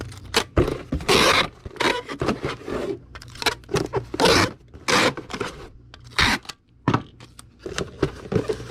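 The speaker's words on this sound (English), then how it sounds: "Tape is just getting all crinkled up." Packing tape crinkling and scraping in irregular bursts of crackling rustle while a damaged doll and DVD are wrapped for shipping, close and moderately loud with no talk.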